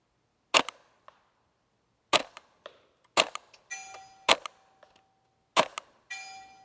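Suppressed .22 shots from a Ruger 10/22 fitted with a Volquartsen FireFly bolt, heard outdoors at a 100-yard range: five sharp, fairly quiet cracks spaced a second or so apart, each followed by a brief mechanical clack and a faint ringing tone.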